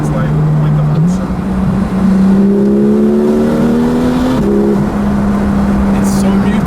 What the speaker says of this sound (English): if I downshift, I can actually hear what it sounds like with the option